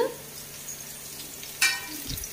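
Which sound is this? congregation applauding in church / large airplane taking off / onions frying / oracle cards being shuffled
onions frying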